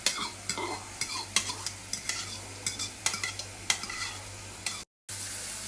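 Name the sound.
saltfish added and stirred in frying pan with cabbage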